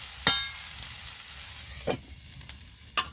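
Red amaranth stems and tomato fry in a covered pan, a faint steady sizzle with a few sharp clicks or pops spaced through it.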